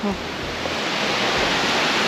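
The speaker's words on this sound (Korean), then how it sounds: "아 여기가 이제 여공폭포인 것 같습니다." Yeogong Falls, a waterfall at about 340 m elevation, sends out a steady, close, full roar of rushing water that continues without a break and with no voices over it.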